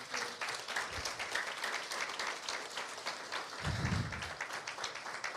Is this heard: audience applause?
yes